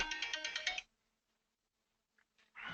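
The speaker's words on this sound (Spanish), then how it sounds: "Permítame que me está sonando el teléfono." A phone ringtone chimes in a quick pulsing run of bright electronic tones, fairly close, then cuts off into near silence before faint sounds return at the end.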